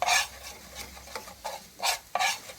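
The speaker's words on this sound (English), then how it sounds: "I like to burn the garlic and the curry together" Curry powder, garlic and ginger scrape and sizzle in a pan as they are stirred, a series of close, loud raspy strokes in an uneven rhythm with no talking.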